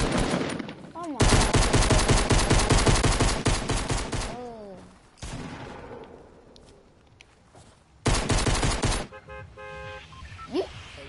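Rapid bursts of video game gunfire, loud and close, come in two long automatic volleys separated by a quieter stretch, with a few scattered shots and electronic game tones between them.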